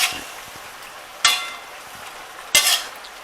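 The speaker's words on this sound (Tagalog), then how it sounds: "haluin lang natin ng bahagya para mag-mix ng maganda yung ano yung cornstarch" Chop suey vegetables with cornstarch being stirred in a pan, two distinct scraping, sizzling stirs about a second apart over a soft background hiss.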